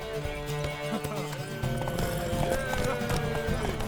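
Horse hooves clip-clop and gallop in The Witcher 3 during a race to a tower, a steady drumming rhythm with a whinny, up close and loud under music and shouting voices.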